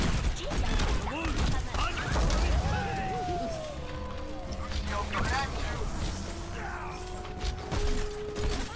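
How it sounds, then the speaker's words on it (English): Junkrat's grenade launcher fires in Overwatch amid a dense, clattering game mix: repeated bursts and mechanical clanks with metallic whines over a constant low rumble, while a voice talks over the action. "And with Junkrat, his ammo goes all over the place. It's grenades."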